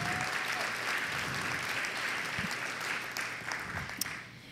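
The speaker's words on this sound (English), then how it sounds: "Let's give a big round of applause to our silver sponsors." Guests at a charity luncheon applaud the silver sponsors. The clapping is even and steady across the room at a moderate distance and tapers off at the close.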